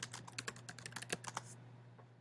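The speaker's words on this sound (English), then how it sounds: "So if I'm going to type in Joyce and the Dubliners" Fast typing of a search query on a computer keyboard during library research: a quick run of crisp, close key clicks for about a second and a half, then one last faint tap, over a steady low hum without voices.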